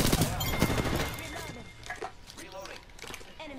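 Gunfire crackles in Apex Legends, dense rapid bursts early that thin into scattered shots and impacts, mixed with busy game noise.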